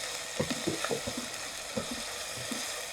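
Boti soup ingredients fry lightly in a pan with a soft, even sizzle. Faint stirring scrapes and taps sound over it at irregular intervals.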